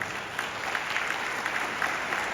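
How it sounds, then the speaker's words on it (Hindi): An audience at a motivational talk breaks into applause, a short stretch of dense, even clapping from many people at moderate volume, alone without speech. "आप अपने लिए अच्छी ताली बजा सकते हैं।"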